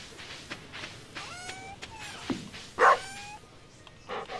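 A dog in the farming game Stardew Valley gives several short, quiet barks and yips spread across a few seconds, mixed with soft game sounds and small footstep-like clicks.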